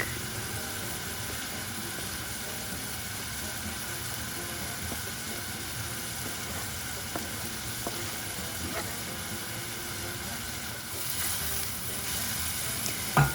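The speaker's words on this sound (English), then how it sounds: "as your onions cook down, you can add in your garlic." Chopped onions and garlic sizzle steadily in a hot pan for a lentil taco bake, a constant crackling fry with faint stirring scrapes and no talking.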